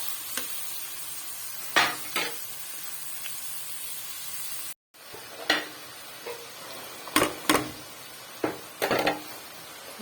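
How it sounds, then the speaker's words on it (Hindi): The inner part of a capsicum sizzles softly in a pan, with a steady low frying hiss broken by a few sharp clinks and stirring scrapes from a utensil. There is no talking. "शिमला मिर्च का जो अंदर वाला पार्ट है तो भून लेंगे"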